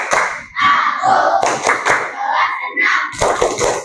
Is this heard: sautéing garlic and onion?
no